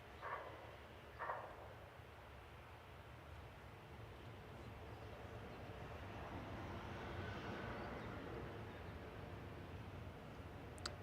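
A distant EasyJet Airbus A320-200 arriving at Manchester Airport from Milan, its engine roar a faint, broad rumble that slowly builds over outdoor ambience, with a couple of short bumps early on.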